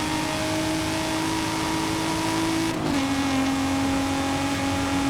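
A 1993 Nissan Skyline R33 B Class road car in Forza Horizon 5 holds a steady, loud engine drone, then shifts up a gear with a brief dip before settling at a lower, constant revving tone.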